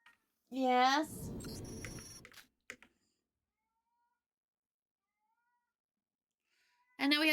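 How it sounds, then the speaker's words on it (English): A cat meows loudly upstairs, a strong cry at the start followed by noise and faint clicks, then a long quiet gap before another meow at the end. "And now we have the cat crying upstairs."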